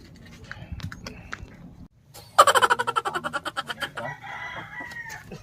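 A live native chicken in a rural provincial setting clucks softly, then breaks into a loud, close crow that trails off in a rapid, pulsing series of notes, with no talk.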